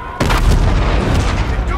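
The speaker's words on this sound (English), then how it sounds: "Our Aedas guns are still firing on our fleet." Heavy gunfire and booming weapon blasts in Call of Duty: Infinite Warfare, a dense, loud barrage that begins abruptly and keeps rumbling, with faint game voices underneath.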